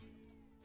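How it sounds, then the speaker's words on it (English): A cat meows faintly during a tabletop game session, a brief quiet call sitting low in steady background hum. "That's the cat again."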